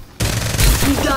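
Gunfire in the video game Farlight 84: a sudden loud burst of rapid shots kicks in after a brief quiet moment, continuing as a heavy, booming volley.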